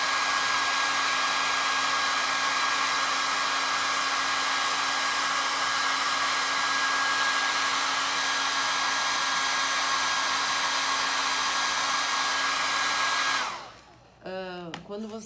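A hair dryer blows over gesso-coated MDF with a loud, steady whirring hum that runs unbroken for about thirteen seconds, then cuts off abruptly as a person starts talking.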